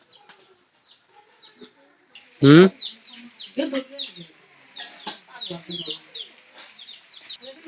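Pigeons in a straw-lined coop give soft, scattered coos, with one loud burst of flapping or rustling partway through and a brief murmur from a person.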